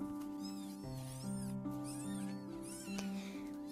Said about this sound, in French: Les chats.